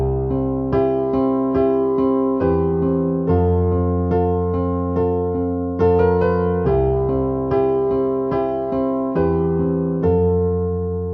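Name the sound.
piano accompaniment intro of a song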